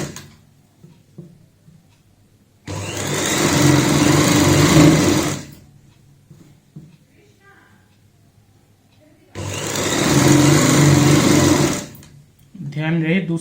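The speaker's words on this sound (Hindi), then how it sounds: "ऐसे ही हमने आधा इंच का मार्जिन लेना है और यहाँ पे सिलाई लगानी है।" A sewing machine stitches a baby frock seam in two steady, whirring runs of about three seconds each, separated by quiet pauses with soft handling noises and someone talking.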